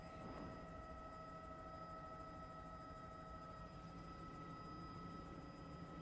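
A news helicopter flies over storm damage near Xavier University, its steady droning rotor and engine hum filling the whole stretch at a faint, constant level with no talk over it.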